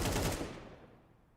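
Close, loud burst of AK rifle fire in a Counter-Strike match, a dense rapid volley in the first half second that fades quickly into a decaying echo tail.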